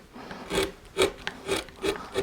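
Wood is carved into a coastal relief with a V-tool and gouges, giving five or six evenly spaced scraping cuts about half a second apart, close and moderately quiet with no talking.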